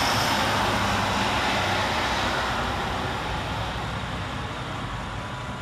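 Class 156 diesel multiple unit arriving at Pollokshields East station in Glasgow, a broad steady roar of engine and wheels, loud at first and easing slightly as it draws in.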